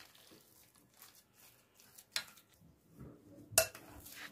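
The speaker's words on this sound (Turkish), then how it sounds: "İyice karıştıracağım." A spoon scrapes and clinks against a bowl while ingredients and milk are mixed, soft and intermittent, with a couple of sharper knocks toward the end.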